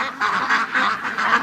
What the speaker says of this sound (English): Come on, silly ducks.